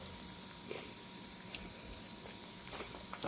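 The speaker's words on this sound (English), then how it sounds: "They're starting to sizzle." Steaks sizzle on a hot grill in a steady, crackling hiss, with occasional sharper pops and spits rising over the constant fizz.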